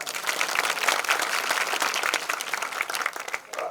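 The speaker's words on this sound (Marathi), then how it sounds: "हा जोरात जरा टाळ्या वाजवा," A lecture audience applauds steadily and loudly, dense clapping holding at an even level throughout.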